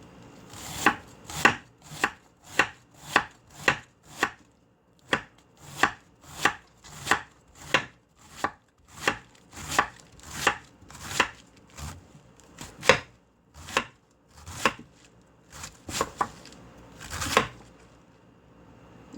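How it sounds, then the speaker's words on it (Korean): A knife julienning red cabbage on a cutting board, a long series of crisp, regular chops close up, with a short pause partway through and some quicker, uneven cuts toward the end. "홍배추 채 썰어볼게요."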